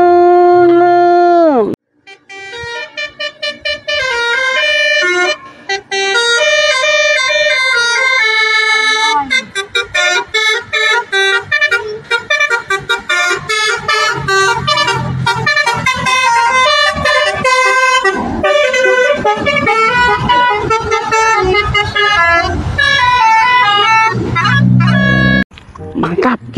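An Eka Persada Ken Arok bus horn blaring loud and near, a long melodic multi-tone telolet horn playing shifting tune-like notes for many seconds with brief breaks.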